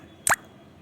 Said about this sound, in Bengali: এখন ভেজে রাখা মাছগুলো দিয়ে দেব